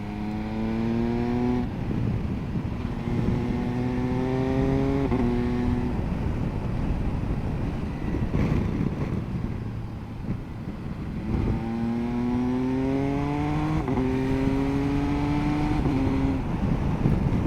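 An MV Agusta 900 Veloce Enduro motorcycle engine revs up repeatedly, each pull climbing in pitch before dropping back to a rumbling idle, close and loud, with several distinct rev bursts and no talking.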